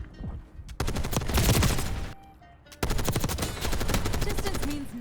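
XMG machine gun firing in Black Ops 6, two long rapid automatic bursts separated by a short gap, loud and close with dense rattling reports.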